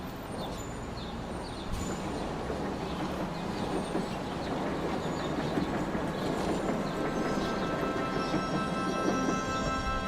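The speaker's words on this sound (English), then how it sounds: "Edward set off on the slowest express train in years" A slow express train rolls along, a steady rumbling clatter of wheels on rails with faint squeals and a continuous mechanical drone that grows slightly louder after a quieter opening.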